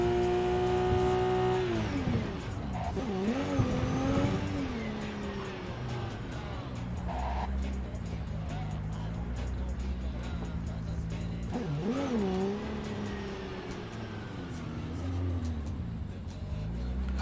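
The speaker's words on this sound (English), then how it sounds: "I really like the sound of this vehicle, and it seems like it can handle well as well." A truck drives through the Badlands in Cyberpunk 2077 with a loud, constant engine roar. The pitch rises and falls as it revs and shifts, and tires briefly squeal along the way.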